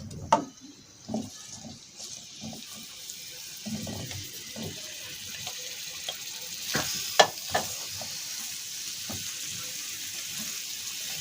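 Potatoes drop into hot fat and sizzle faintly, broken by scattered clinks and stirring scrapes of a utensil in the pan, close and fairly quiet.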